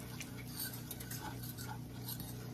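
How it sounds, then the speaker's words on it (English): Flour being stirred in a hot pan with butter on a home stovetop, a steady scraping of utensil against pan with light clinks over a constant low hum, no talking. "you want to brown that flour"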